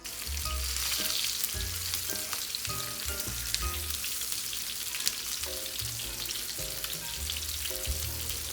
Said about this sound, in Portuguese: Vou deixar esse ossobuco dar uma dourada de um lado, virar e deixar ele dourar do outro lado.